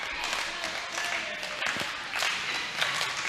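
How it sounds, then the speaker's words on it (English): A wrestling crowd at a Shane Douglas vs Shane Storm match cheers and applauds steadily, a dense, noisy wash of clapping and shouting that swells and dips throughout. "The crowd behind the franchise."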